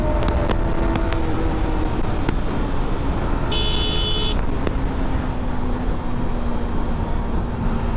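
A Mahindra Scorpio cruising steadily in fifth gear, heard as a continuous loud road and engine drone throughout, with a brief high-pitched tone partway through and a few sharp clicks.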